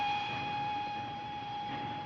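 A train on the line toward Munich around 1940, heard as a steady rumbling run with a sustained whistle-like tone held over it, moderately loud and continuous with no voices.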